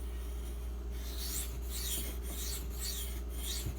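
A Maxamet steel knife is drawn across a King Diamond 1000 grit waterstone in steady rasping strokes, about five close, rhythmic passes over a constant low hum.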